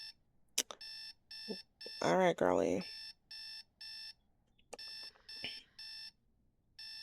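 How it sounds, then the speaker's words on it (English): Alarm clock ringing in The Sims 4 video game, a repeated electronic beep pattern in regular bursts, moderately loud, with a brief spoken line from a woman near the middle. "I believe her alarm is about to go off in about 1 minute"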